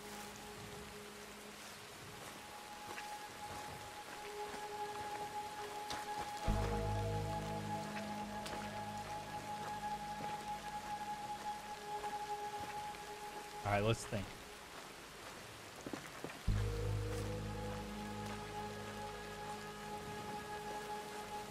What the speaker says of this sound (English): Love that we're doing this in the rain.